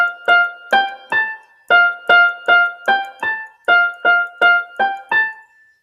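A mellophone plays a melody as a dozen separate, evenly paced brass notes, each clear and loud with short gaps between them, and no talk.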